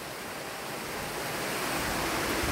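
A strong stream current rushes over large rocks at Dhuppani waterfall, a dense, loud, continuous roar of water that swells slightly.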